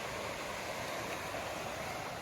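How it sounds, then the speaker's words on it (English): Steady broadband rushing of river water near Bolton Abbey in the Yorkshire Dales, a constant, fairly loud wash of flowing water with no voices over it. "You can hear the water getting stronger now."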